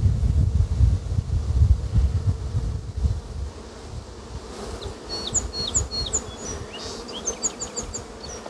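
Honey bees buzzing steadily around a queen cage set on the top bars of an open hive, a dense close drone with rustling handling noise early and higher, brief bee whines toward the end.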